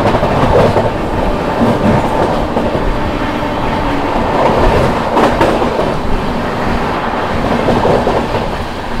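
Humsafar Express running from Prayagraj to New Delhi overtakes the Rewa–Anand Vihar Superfast Express, with a loud, continuous roar and clickety-clack of wheels on rail that holds steady throughout, heard from on board with no talk.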